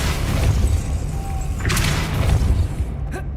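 A Depulso force spell cast in the Hogwarts Legacy video game lands as a heavy booming thud over a dense rumbling bed of game sound, with a sharp burst about halfway through and another near the end.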